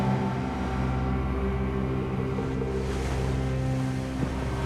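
A motor canoe runs through fast river currents on a jungle river in Peru, its engine droning steadily beneath a constant rush and churn of water.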